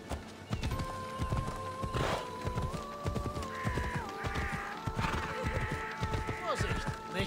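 Horse hooves clip-clopping in the video game Assassin's Creed Odyssey, a steady run of hoof thuds under game music, with a horse neigh and someone talking over it.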